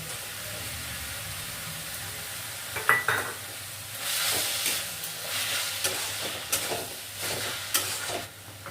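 Onion paste hitting hot oil in a pan while mutton maharani is being made, giving a steady low sizzle with spatula stirring and brief scrapes, louder bursts of frying hiss in the second half.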